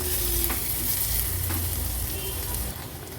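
Ginger, garlic and chilli paste with onion sizzles steadily over a low gas flame in a pan, with occasional stirring scrapes and soft clinks over the constant frying hiss; no voices.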